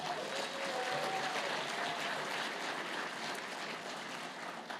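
Steady applause from a political conference audience, a dense wash of clapping that holds for several seconds before easing slightly.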